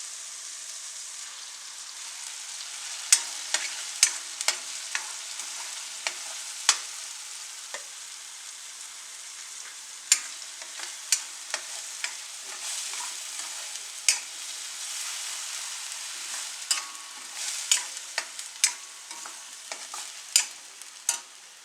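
Food frying in onion oil in a home kitchen, a steady bright sizzle with scattered crackles and pops and occasional stirring scrapes, close and fairly soft.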